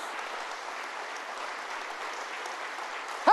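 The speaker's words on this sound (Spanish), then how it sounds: "¡Fuerte ese aplauso!" Church congregation applauding during a Spanish-language worship service, a steady wash of clapping held at moderate level throughout, with a brief louder voice cutting in right at the end.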